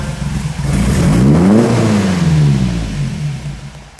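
The engine of a 1965 Maserati OSCA 1600 GTZ Zagato is revved once, loud and close, its pitch sweeping up to a peak and falling back to idle.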